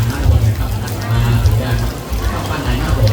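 Heavy rain pours down at a temple hall during a money-tree offering ceremony, a dense, steady hiss with murmured voices mixed in.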